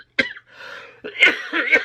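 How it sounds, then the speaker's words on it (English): A few harsh coughs close to the microphone: one sharp cough, a pause, then a rougher burst of coughing. "This cough's got to go away."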